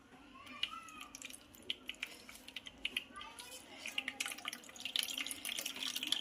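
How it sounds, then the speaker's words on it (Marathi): Faint water trickles and drips steadily from a wrung cotton cloth of strained curd, soft splashes and small clicks in a quiet room. "शक्यतो होईल तेवढ्या याच्यामधलं पाणी निथळून काढायचं आहे आपल्याला"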